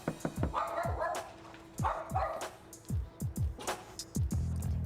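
A dog barks at someone at the door in repeated sharp, close bursts mixed with higher yips, loud and irregular, with no voices over it.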